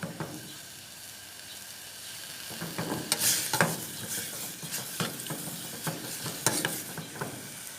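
Pork is stir-fried in a pan with a little water, giving a close, continuous sizzle broken by repeated scraping and clacking strokes of a spatula.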